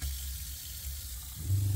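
Water running from an RV tap fed by a DC 12 volt pump, a steady close hiss of flow with a low pump hum rising near the end.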